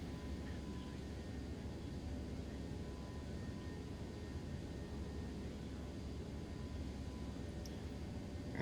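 Steady broadband jet roar from a ToLiss A319 airliner in X-Plane 11, climbing and gaining speed after takeoff from Birmingham on a murky morning, a constant even rumble with no talk.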